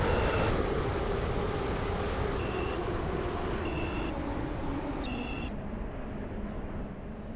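A train pulling into a station in a Roblox railway game, a steady low rumble and hum of the moving train with a few high electronic tones, continuous at moderate level throughout.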